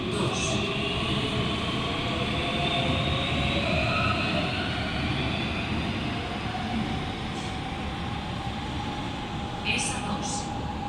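An FGC metro train on the Barcelona–Sabadell line runs at Plaça Catalunya station with a steady, loud rumble throughout. Faint high squeals come through near the end.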